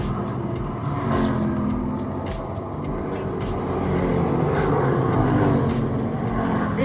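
Race cars lapping a track at the Fall Classic, a continuous close engine roar with rapid repeated bursts as cars pass, steady and loud with no talk.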